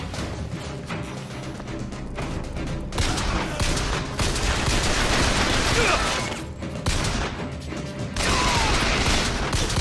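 Dense, loud gunfire and chaotic combat noise from BioShock Infinite, with repeated bursts and blasts layered over a constant din of game action.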